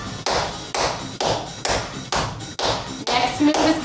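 Hands clapping in a seated chair workout, a steady series of about seven sharp, evenly spaced claps over continuous background music.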